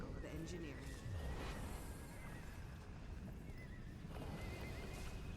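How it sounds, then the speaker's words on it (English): A horse whinnies amid clip-clopping hooves in the Guild Wars 2 video game, a couple of neighs rising over a steady background of game noise. "All I'm hearing is horse whinnying."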